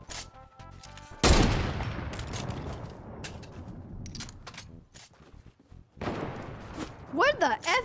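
A rapid burst of video game gunfire suddenly fills the mix, a long dense volley of shots that tapers off, followed by another cluster of sharp reports and some whistling effects near the end.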